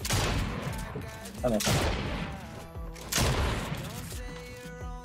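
Rapid SMG gunfire in Fortnite, several bursts of crackling shots with heavy thuds between them, loud and close, with brief talk over the fighting.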